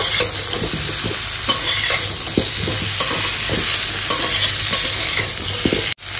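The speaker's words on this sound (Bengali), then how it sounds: "ইঁচড় দিয়েও কিন্তু খুব ভালো করে একটু ভাজা ভাজা করে নেব।" Boiled jackfruit and potato fry with onion in a hot pan, a loud continuous sizzle broken by rhythmic scraping and clattering stirs of a spatula, ending in a brief pause.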